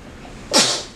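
One sudden, close sneeze bursts out after a quiet lead-in and fades quickly.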